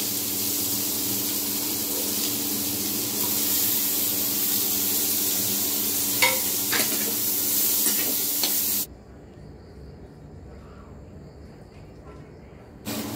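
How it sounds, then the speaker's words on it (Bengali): Onions frying in a pan for a crab curry hiss in a dense, continuous sizzle with occasional stirring clicks, then the sound drops sharply to a quieter room tone. "এই যে পেঁয়াজ ভাজা শেষ।"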